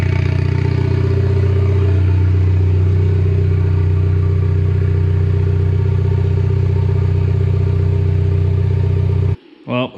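A buggy's LE2 turbo mid engine runs on starting fluid at a steady, loud idle with a deep rumble for about nine seconds, then cuts out abruptly and leaves a brief clatter.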